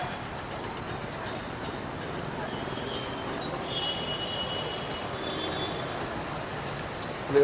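A train rumbles past in Bangalore at a steady, loud level, with a metallic wheel squeal rising and fading; faint voices are mixed into the background.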